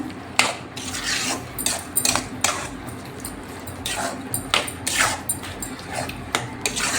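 A metal spoon scrapes and clinks against a pan while modak filling is stirred and sautéed over a low flame, with steady repeated scraping strokes close by over a low background hum.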